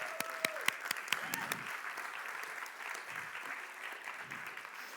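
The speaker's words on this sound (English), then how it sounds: "Let's give them a round of applause." A conference audience applauds volunteers, opening with a few sharp, distinct claps that quickly swell into steady, even applause across the room.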